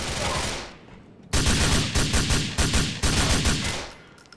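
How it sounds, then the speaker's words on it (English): AK rifle fire in GTA IV, a rapid string of loud, close bursts after a quieter stretch, several volleys in quick rhythm with short gaps between them. "AK. I like the sound of this gun better."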